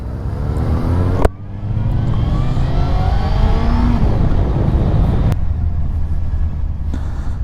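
A group of motorcycles, including a Honda CBF and a faired Fazer, rides in a column through traffic lanes on an autumn road. Steady loud engine drone and wind rush continue throughout, with brief sharp knocks.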